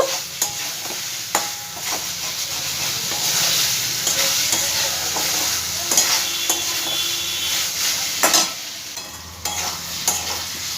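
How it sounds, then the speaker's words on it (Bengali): Fried potatoes being stirred with spice paste in a pan for a chhanar kalia, with steady sizzling broken by repeated sharp spatula scrapes and clinks against the pan. "দিয়ে 2 মিনিটের মতন একটু আলুর সাথে মশলাটা নাড়াচাড়া করে নেব।"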